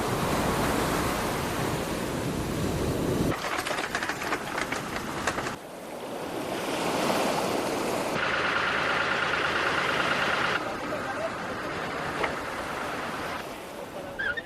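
Rough surf of warm but violent Pacific water breaking on the El Salvador coast, a steady loud roar of crashing waves and wash rolling throughout, with no voices.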